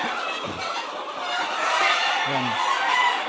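Chickens on a small farm cluck and murmur close by, with a couple of low clucks standing out over a steady wash of outdoor noise.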